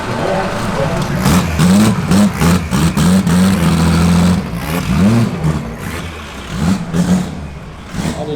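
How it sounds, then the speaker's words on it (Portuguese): Chevrolet Omega TT race car with a 1200 whp engine revving in loud, repeated bursts at close range, with rising and falling pitch and crowd chatter underneath. "Luciano vai acelerar o ômega."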